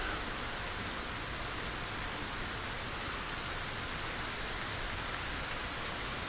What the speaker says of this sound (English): Wow, it's still raining.